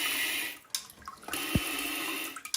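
A toilet bidet sprays water at changing pressure settings, making a steady, close hiss of rushing water that dips briefly and then surges back.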